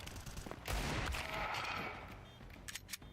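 Gunfire in the game Counter-Strike 2 during a collegiate tournament match, a sudden loud burst of shots with a ringing tail fading over a couple of seconds, followed by a few faint clicks.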